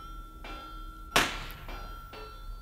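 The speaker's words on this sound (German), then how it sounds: "das klang wie ein Schuss." A single sharp bang from a gunshot sound effect in a crime radio drama cracks out mid-scene, loud and brief, with faint ringing metallic tones before and after.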